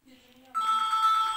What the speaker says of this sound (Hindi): जीप वाले का फ़ोन आ गया।